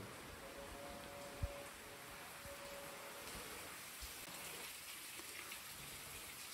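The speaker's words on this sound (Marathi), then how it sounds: "पाऊस पडतोय" Steady rain falls softly and continuously, with a few faint drips standing out and nobody talking.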